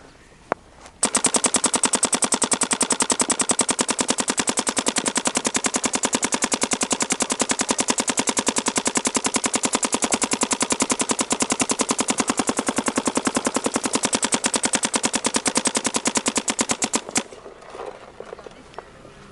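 A Planet Eclipse CS1 paintball marker fires nonstop in a rapid, loud, even stream of shots for about sixteen seconds, then stops abruptly, leaving faint handling noise.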